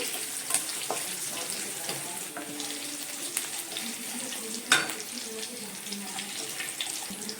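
Thinly sliced onion frying in a pan for karabath, a soft continuous sizzle at moderate distance with occasional clinks and one sharper knock midway.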